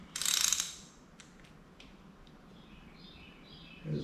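Socket ratchet clicks quickly while tightening intake bolts on a Blueprint 350 engine, a short loud burst followed by quieter scattered clicks and faint clinks.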